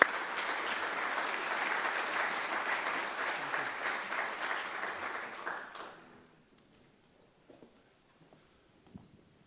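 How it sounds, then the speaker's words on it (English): Audience applause welcoming the master of ceremonies at a supply chain summit, dense steady clapping for about six seconds before fading out, leaving near silence with a few faint stray claps. "Let's give a round of applause."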